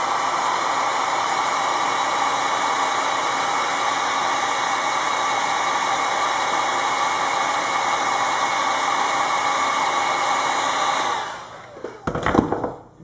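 Heat gun blowing hot air onto holder material while shaping an inside-the-waistband tourniquet holder: a loud, steady close-up roar that runs unbroken for about eleven seconds, then shuts off with a few clunks and handling noises.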